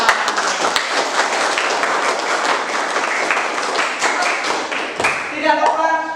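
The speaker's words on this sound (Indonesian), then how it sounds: "Terima kasih untuk hari ini, tepuk tangan." Classroom applause: a steady, dense wash of many hands clapping together fills most of the span, then stops abruptly near the end as a voice begins.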